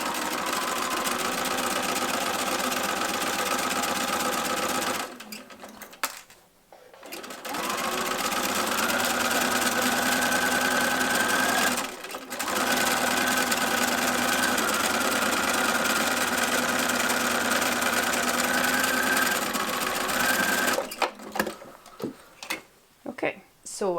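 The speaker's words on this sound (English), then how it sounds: "So I've stitched down both sides now" A sewing machine runs in long steady stitching bursts along tote bag seams, whirring continuously with brief pauses between runs and a few clicks near the end.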